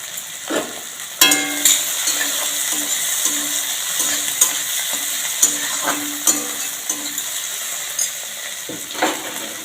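Chopped tomato and green chili fry lightly in a pan, a steady close sizzle with soft scraping stirs and a few sharper clinks of the spatula.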